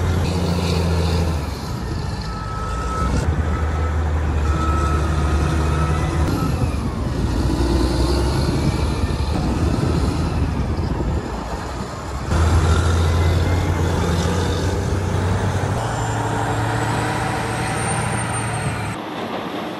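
Giant mining machines, including a 990 loader swinging loads and feeding a line of haul trucks at a mine, give off a loud, continuous diesel roar and rumble that swells and shifts over about twenty seconds.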